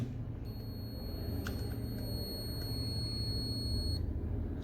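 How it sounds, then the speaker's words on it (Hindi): A multimeter set to continuity mode beeps as its probes touch, giving one steady high-pitched tone of about three and a half seconds over a low background hum. "मैंने अभी मल्टीमीटर को कंटिन्यूटी मोड पे सेट किया हुआ है, तो जैसे ही मैं दोनों प्रोब को टच करूंगा तो इसके अंदर एक बीप साउंड आएगी।"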